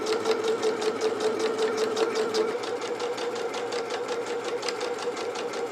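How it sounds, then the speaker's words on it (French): A sewing machine runs a steady, rapid stitching rhythm while topstitching a trouser fly with a double row of stitches, loud and close with no talking, its hum dropping slightly partway through. "je vais venir surpiquer une première fois et ensuite une deuxième fois à côté pour faire une double surpiqûre"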